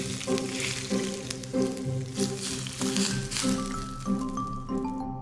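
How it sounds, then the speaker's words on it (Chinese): Hot oil poured over steamed fish topped with chili and shredded scallion and ginger, giving a loud crackling sizzle that swells and pulses in bursts over a few seconds, with no talk. "浇上热油，激出香味"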